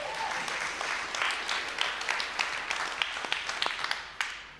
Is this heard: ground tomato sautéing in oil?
no